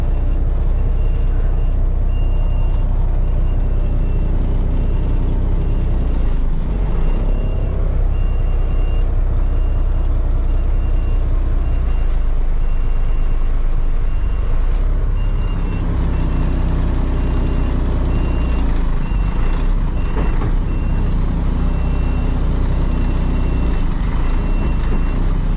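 A 1992 Kenworth truck idles loudly and steadily up close while being put into gear, its deep diesel rumble continuous throughout, with a faint steady beeping running underneath and brief mechanical clunks.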